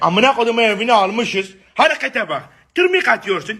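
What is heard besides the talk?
No distinct noise like a dog, phone or traffic.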